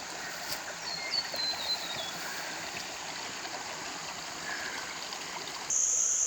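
Steady rushing of a creek at a hiking-trail crossing in Mt Barney National Park, Australia, a continuous broadband wash of water with no voices.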